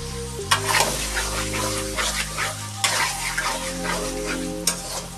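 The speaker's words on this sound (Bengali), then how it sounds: "মাংসটাও আর একটু কষানো হবে, এখন তেল ছেড়ে দিয়েছে।" Chicken curry meat sautéing in oil in a pan, a steady close sizzle with scraping stirs throughout, joined by a low tonal hum.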